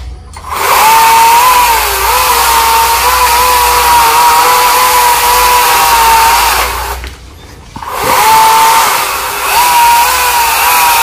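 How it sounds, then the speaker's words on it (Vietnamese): A chainsaw cuts small branches from an ancient banyan tree more than 200 years old, running loud and steady for about six seconds, briefly dropping off, then revving up again. "Nhà ba của Hoa đến đây cưa mấy cái nhánh nhỏ xíu à"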